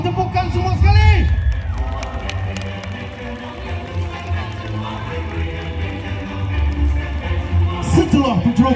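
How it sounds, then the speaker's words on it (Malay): Loud, sustained crowd cheering and applause at an army commando K9 dog demonstration during a Malaysian special forces diamond jubilee event in Melaka, with shouting voices throughout and a fresh swell near the end. "Bagi tepukan semua sekali."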